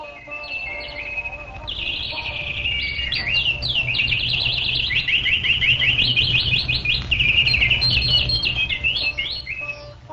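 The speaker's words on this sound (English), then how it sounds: "when the birds began to sing loudly" Birds sing loudly at dawn in a dense, continuous chorus of bright, rapid chirps and trilled phrases close by, running throughout over a low steady hum with no talk.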